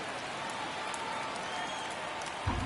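Steady, dense crowd roar from a baseball stadium in the video game MLB The Show 25, filling the whole stretch evenly during a tense one-run ninth inning, with a brief louder swell near the end.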